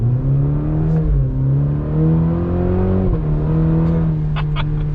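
A 2021 Cadillac CT4-V sedan drives and accelerates, its engine droning steadily from inside the cabin with rising and falling revs, a few brief clicks near the end.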